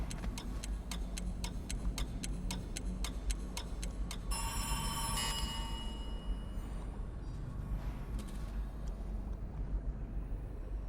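A countdown timer in the stealth game Dishonored ticks through a five-second count. Crisp, evenly spaced ticks repeat for about four seconds, then stop and give way to a low, muffled hum with faint tonal sounds.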